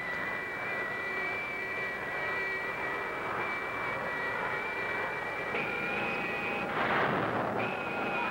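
A spacecraft engine in a video game roars steadily as its thrust is turned up, loud and continuous with a whining tone that steps higher, and a brief burst near the end.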